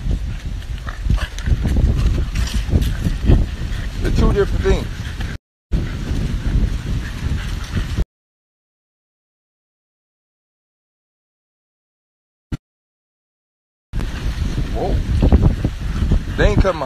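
Gusty wind buffets the microphone with low rumbling roar, broken by two stretches of silence, with a voice talking over parts of it.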